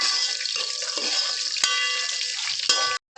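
Onions and curry leaves sizzle in hot oil for fish sambar, a steady, bright hiss with a few sharp clicks from a stirring spoon before a sudden cutoff near the end.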